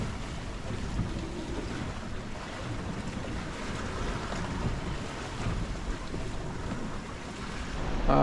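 Wind and waves surge around a small reefed sailboat at sea on a solo passage toward the Canary Islands, a loud, constant roar of gusts buffeting the microphone over rushing, breaking water, with no voices.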